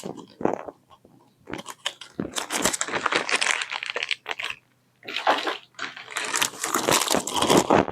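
Plastic packets from a gaming-chair heating kit crinkle and rustle in bursts, close to the microphone, with brief pauses between handling.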